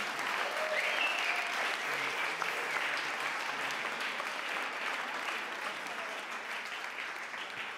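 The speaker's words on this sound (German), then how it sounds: "Ein Applaus bitte erstmal dafür, bevor ich zusammengezählt habe." A poetry slam audience at a jazz-themed bar event applauds loudly and continuously, a dense wash of many hands clapping that fades slightly toward the end.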